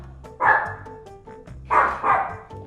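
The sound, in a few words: dog barking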